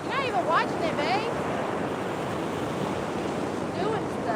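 Ocean surf breaks on a beach during fishing, a steady broad roar of waves and wind buffeting the microphone, with brief high voices or calls rising over it at the start and near the end.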